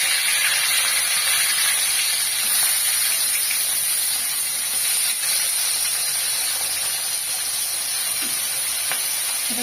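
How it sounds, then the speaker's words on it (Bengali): Fish frying in hot oil in a village kitchen, a continuous loud sizzling hiss that stays even throughout, with no voices. "তেল গরম হয়ে গেছে, এবার মাছটা দিয়ে দিই"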